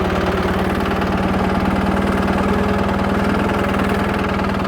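A Captain tractor engine runs steadily at normal throttle lever, a loud, close, even diesel drone with a constant low hum and a rapid chugging pulse, with no talk.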